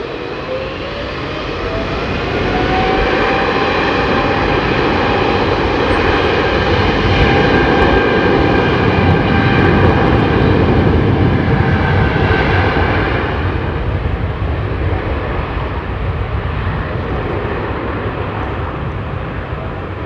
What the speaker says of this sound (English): Such a noisy engine, isn't it?